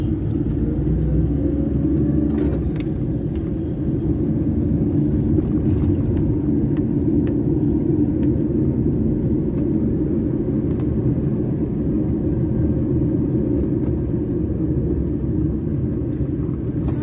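Busy street traffic in Saddar, Rawalpindi, Pakistan, heard as a steady, loud low rumble of engines with faint passing vehicles and occasional higher clatter, continuous throughout with no talking.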